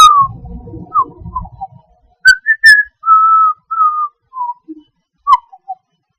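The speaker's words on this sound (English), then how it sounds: "And there's my tablet, making that whistle noise." A drawing tablet gives off a series of short, clear whistling tones in a loose, uneven pattern, with a low rumble underneath at the start.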